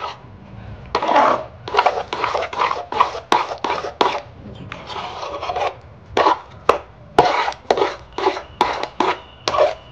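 A spoon scrapes and rubs against a pan while chana dal halwa thickens with milk, the rasping strokes coming in quick, steady bursts close up, with no talking.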